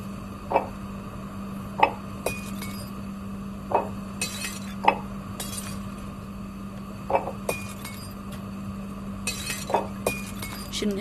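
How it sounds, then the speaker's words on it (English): Glass dishes breaking and clinking in the video game I Am Cat, a series of about ten sharp, bright crashes spaced irregularly over a steady low hum, with no talking. "Just break the dishes."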